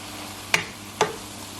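Cabbage cooking with soy sauce in a hot pan for keto eggroll in a bowl, a soft steady sizzle broken by two quick scraping stirs of the utensil.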